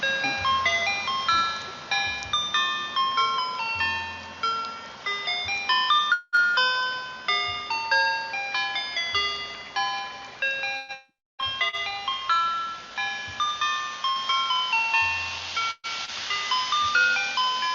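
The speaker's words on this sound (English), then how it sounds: "The melodic emissions of ice cream trucks" An ice cream truck chiming its tinkly, repeating electronic melody, bright bell-like notes playing in loops with a couple of brief dropouts, loud and clear with no talking.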